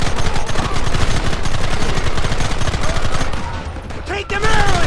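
A volley of gunfire in Red Dead Redemption: dense, rapid shots from many rifles and guns crackle loudly for about four seconds, then briefly stop before firing resumes.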